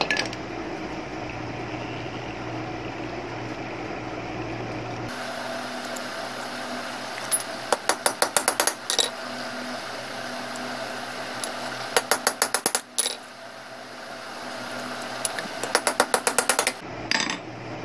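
A shaft bush is hammered into a cooler motor with sharp metallic taps, first a dull background hum and then quick bursts of rapid ringing strikes in several clusters, close and fairly loud, with no speech.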